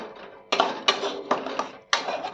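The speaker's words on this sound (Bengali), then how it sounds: "ভালোভাবে নাড়াচাড়া করে পেঁয়াজগুলোর সাথে মিশিয়ে নেব।" Pointed gourd paste stirred with onions in a pan, a spatula scraping and knocking against the metal in four or five sharp, uneven strokes, close and fairly loud with no voice.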